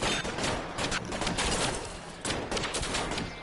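Dense, continuous gunfire rattles through a shootout in the video game L.A. Noire, a loud, sustained burst of overlapping shots with no pauses.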